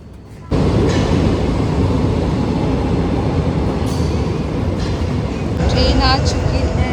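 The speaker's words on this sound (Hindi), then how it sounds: "ट्रेन आ चुकी है और हम ट्रेन में बैठ चुके हैं।" A Lisbon metro train roars loudly and steadily, heard from inside the carriage. The rumble starts abruptly and runs throughout, with a short electronic chime near the end and faint voices beneath.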